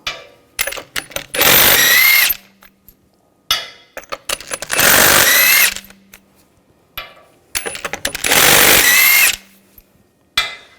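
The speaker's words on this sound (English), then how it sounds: "Now we're going to remove the wheel, use a 19mm socket. Take the lug bolts out." Three bursts from a power tool spinning lug bolts out of a 2000-2006 BMW X5 rear wheel with a 19mm socket. Each loud whirring run lasts about a second, close by, with brief clanks and rattles of the socket between them.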